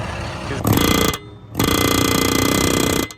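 An air impact wrench tightens a loose bearing on a harvester during soybean harvest, two loud close bursts of rapid hammering rattle separated by a short pause.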